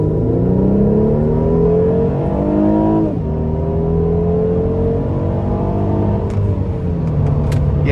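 A 2014 Mercedes-Benz SLK 350 convertible with a 3.5 V6 accelerates at full throttle, its engine note climbing steadily, dropping briefly at a gear change around the middle, then pulling hard again, loud and close throughout.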